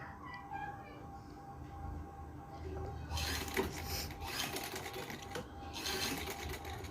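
A sewing machine stitches a button loop onto an Eid dress, its quiet rapid chatter running close in the background and growing louder partway through.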